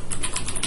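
Fast, continuous typing on a computer keyboard, close and steady, with dense clicking keystrokes and no speech.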